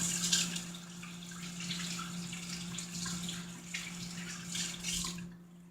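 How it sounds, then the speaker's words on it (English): Hands being washed under a running kitchen tap, a soft continuous water flow with light splashing over a low steady hum, fading out at the end. "let me wash my hands quick"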